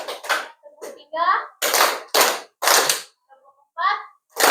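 A standing group in an Indonesian classroom counselling session claps in unison on cue: a leader's voice calls out, then three sharp, loud group claps follow in a spaced rhythm, with the voice returning between the sets of claps.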